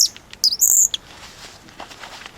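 A handheld bird call whistle kept on a backpack loop gives a couple of quick, shrill chirping tweets close by, then quiet.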